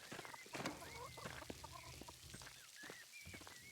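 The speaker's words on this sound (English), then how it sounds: "Can I pet the chickens at least?" Chickens clucking softly in the medieval video game Pentiment, with several short cackles and clucks over a steady, faint farmyard background, with no talk.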